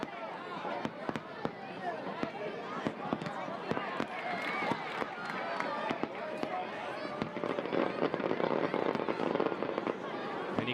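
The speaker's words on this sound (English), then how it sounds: "you can still hear the fireworks sizzling off in the distance across campus" Distant fireworks crackle and pop across a college campus in Blacksburg, with rapid scattered bangs and sizzles that run throughout, faint, under a lively soccer-match crowd and ongoing commentary.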